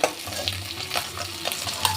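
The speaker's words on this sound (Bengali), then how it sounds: "এবার আমি উল্টে দিচ্ছি এই পিঠটাও অল্প একটু ভেজে নেব" Pieces of katla fish fry in hot oil in a pan, giving a steady close sizzle with light stirring and scraping over a low rumble and no talk.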